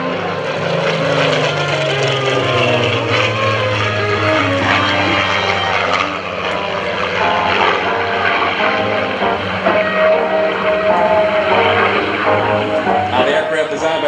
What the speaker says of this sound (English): Listen to this Griffin engine.